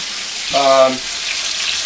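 Chicken fingers sizzle in a frying pan with a steady bright hiss, and a brief tonal scrape rises midway as the pieces are flipped, all close up.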